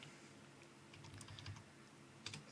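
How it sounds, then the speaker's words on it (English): Soft, uneven keystrokes on a computer keyboard typed with one hand, quiet and close, with a few louder taps scattered through. "typing with one hand is difficult."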